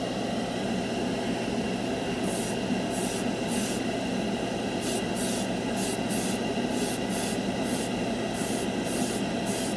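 Short bursts of Splash Paints Metalizer spray paint hiss from an aerosol can in quick repeated passes over a steady background hum, applied as a first black coat.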